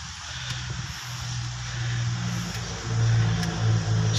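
A hot Toyota Avanza engine revs with an uneven, sputtering note, low and steady with rises in pitch as the throttle is blipped, running close by without talk.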